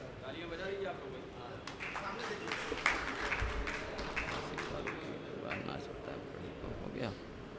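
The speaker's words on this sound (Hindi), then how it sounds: "तालियां बजा दीजिए आप लोग।" Audience clapping at an All India Mushaira poetry gathering in Barabanki during a memento presentation to guests, a faint, scattered patter of hands from a distant crowd with someone speaking over it.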